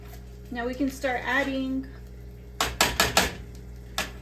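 A pot of macaroni soup being stirred, with a series of clinking utensil taps against the pot coming close together near the end, after a person speaks briefly.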